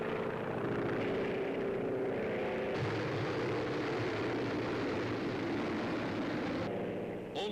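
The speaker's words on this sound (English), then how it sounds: "Roaring in over the beaches, movie camera planted squarely in the nose of a bomber" A World War II bomber's engines roar in low over beaches during a daylight raid on occupied France, a loud continuous droning rumble with a shift in tone partway through, and no voices.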